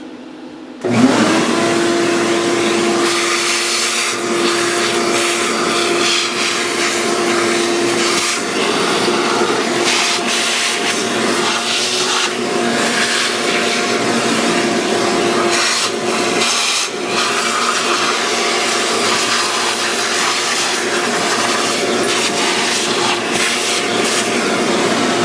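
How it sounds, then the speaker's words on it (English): A shop vacuum switches on about a second in and runs loud and steady, sucking up metal chips and debris in a machining workshop beside a Kerzel cylinder block job, holding a constant whine for the rest of the stretch. "Well, let's vacuum some of this up."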